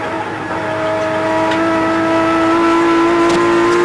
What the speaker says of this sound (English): as we take this in track cam from under the bumper of Jim Richards' car